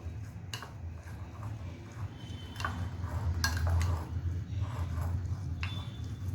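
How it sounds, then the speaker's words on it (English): A spoon mixes egg sandwich filling with black pepper and mayonnaise in a bowl, giving soft scraping and intermittent clinks of metal against the dish over a low background hum. "then I will mix all these together"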